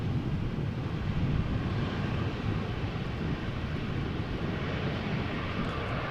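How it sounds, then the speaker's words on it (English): A departing airliner at Amsterdam Schiphol Airport makes a continuous, distant broadband rumble, even and unbroken, softened by wind noise on the microphone. "I think I'm also hearing a departing airplane. It sounds almost like an A350."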